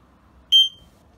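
A single short electronic beep from an LED digital countdown timer's buzzer, sharp and clear against near silence, lasting a fraction of a second.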